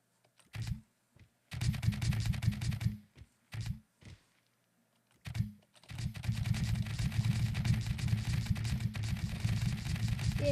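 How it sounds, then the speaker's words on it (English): Rapid bursts of spud gun fire in a video game, stuttering on and off in short volleys and then a long continuous rattling stream, loud and close with no talking. "Let's play around with the spud guns, shall we?"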